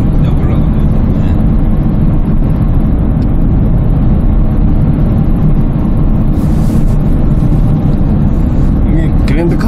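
A Kia Grand Carnival with an aftermarket exhaust climbs a hill at about 1700–1800 rpm, giving a steady, loud, low engine drone with road rumble throughout and no break.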